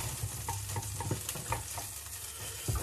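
Diced sausage pieces fry and crackle in a hot pan while being stirred, a steady close sizzle with scraping stir strokes and a louder clatter near the end.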